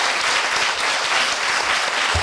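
An audience at a 2014 international academic conference at Korea University claps warmly, a dense, even round of applause filling the hall for the whole short stretch.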